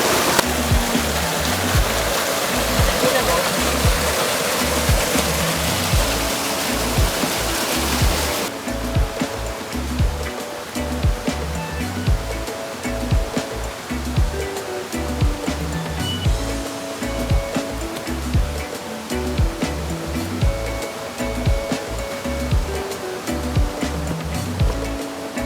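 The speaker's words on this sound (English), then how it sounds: "This is the source of the 4th layer of the Arinta Waterfall." Water rushing from the fourth layer of the Arinta Waterfall on a hike: a loud, steady roar at first, then after a few seconds it falls back to a lower, rumbling flow.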